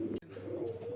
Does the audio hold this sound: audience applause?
no